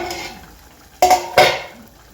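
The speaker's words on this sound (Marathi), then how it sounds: "आता झाकण काढून बघूया आपण" A metal lid comes off a pot of chicken curry masala: soft background sizzle, then two sharp clanks of metal on metal about half a second apart, close and loud.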